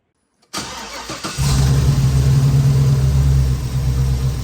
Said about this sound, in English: these guys are determined to prove me wrong, so they think starting it's gonna change something. So Alex is gonna start it up.